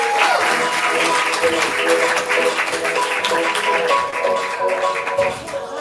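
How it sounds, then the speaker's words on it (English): Comedy improv audience applauding and cheering as a performer enters the stage, a loud, sustained roar of clapping with a held tone and voices mixed in, tapering slightly near the end. "Give her a round of applause as she comes inside"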